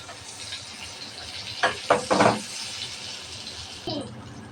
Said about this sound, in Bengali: বেগুন এক পাশ ভাজা হয়ে গেছে, উল্টিয়ে নেব।